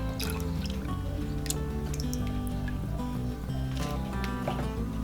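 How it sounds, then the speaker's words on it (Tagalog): Evaporated milk pours into a cooking mixture for coconut and peanut ice candy, a close, continuous liquid trickle and dribble with wet squishing and no talk. "Ngayon, pwede na po nating ibuhos yung ating evaporated milk."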